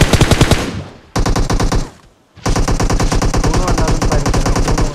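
Automatic AKM rifle fire in the PUBG Mobile battle royale game, loud rapid bursts of shots with a short pause and a near-silent gap, then a long sustained burst.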